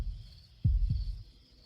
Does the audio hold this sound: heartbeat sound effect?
yes